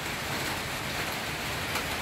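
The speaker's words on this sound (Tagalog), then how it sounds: "Sabi ko na nga ba, ulan na naman." Steady rain hisses evenly across the whole stretch, a dense wash of drops with no voices.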